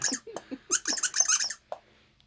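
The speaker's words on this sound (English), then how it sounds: "He looks grumpy, but he sounds cute." A small rubber Boglin toy puppet squeaks in a quick series of high, bright squeals, then a final short squeak before silence, loud and close.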